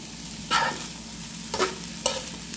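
Pasta locrio with shredded sardines is stirred in a pan over a soft, steady sizzle, with three distinct spoon scrapes spread out across the moment.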